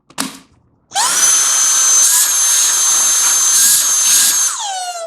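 A Dyson cordless vacuum, fitted with a Makita battery via an adapter, switches on with a brief click, then runs with a loud steady high-pitched whine for about four seconds before winding down.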